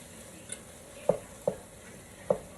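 A spoon stirs roasted red pepper pasta in a pan, making a few separate scraping clinks over a soft sizzle, quiet and close, with no voices.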